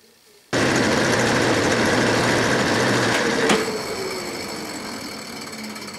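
A South Bend lathe switches on abruptly and runs loud and steady with a grinding jig taking a cutting pass, a sharp tick sounding partway through before the whine eases slightly.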